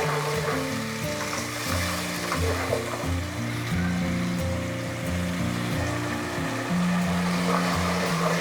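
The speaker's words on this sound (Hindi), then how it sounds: "थोड़ा सा पानी ऐड करेंगे और इसको अच्छे तरीके से भून लेंगे।" Masala for kadhi pakora fries in a pan after a splash of water goes in, giving a continuous close sizzle that runs steadily beneath background music.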